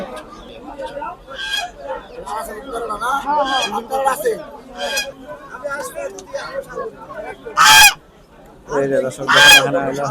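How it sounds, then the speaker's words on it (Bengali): Chinese geese honk loudly amid chickens and ducks at a busy poultry market in Keraniganj, Jinjira, with several sharp close honks over steady crowd chatter and talk. "এখানে দেখুন বড় বড় চীনা হাঁস"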